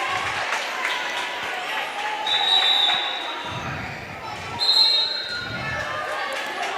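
Cheering from another game at a volleyball tournament carries from a distance, swelling twice over a gym hum, while a commentator talks.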